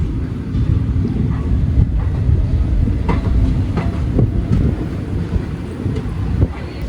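Passenger train hauled by a WDP 4D diesel locomotive pulls away from Sengottai, heard from inside the carriage as a loud continuous rumble with rhythmic wheel clatter and occasional knocks.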